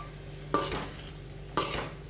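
Sabudana khichdi is stirred in a large kadhai: two distinct scraping strokes about a second apart, close and clear over a faint cooking hiss.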